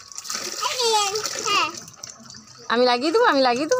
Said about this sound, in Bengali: যাচ্ছে গাছে জল।